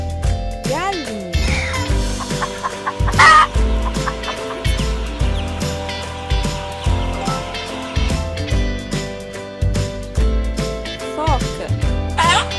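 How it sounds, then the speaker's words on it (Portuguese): Chicken clucking from a farm-animal sound game, set over steady background music with bright jingle-like tones, the clucks coming in short repeated bursts throughout. "galinha"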